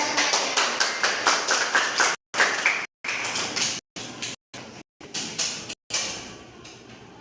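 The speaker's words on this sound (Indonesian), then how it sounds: "Beri aplaus" A classroom group claps in short rhythmic bursts, brisk and close, with several abrupt cuts of silence between rounds of applause.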